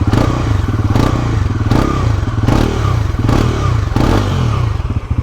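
A Bajaj Pulsar NS400Z motorcycle engine fires up and idles with a deep, throbbing exhaust note from its underbelly exhaust, loud and near, pulsing in rough regular bursts.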